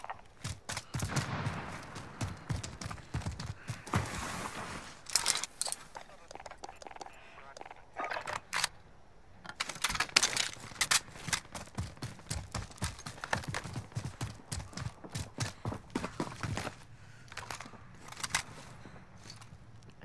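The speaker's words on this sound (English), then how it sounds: "Hear footsteps" Footsteps in a first-person shooter, quick rhythmic steps crunching close by, interrupted by bursts of gunfire, while players talk throughout.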